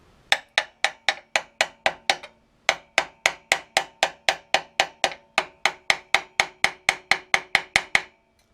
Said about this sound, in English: I'm going to have to get a hammer and gently tap that on.